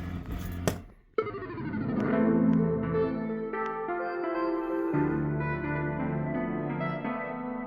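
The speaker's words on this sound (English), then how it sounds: "I'll show you what it sounds like when you actually lose the game" Arcade1Up home claw machine sounding its losing-game jingle, a short burst followed by a sustained, warbling electronic tune with echoey effects, fairly quiet and steady.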